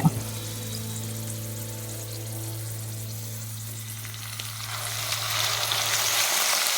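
Boiled carrots hitting hot ghee for carrot halwa, a steady loud frying sizzle with a low hum underneath, swelling brighter and hissier toward the end as the carrots are stirred in; no talking.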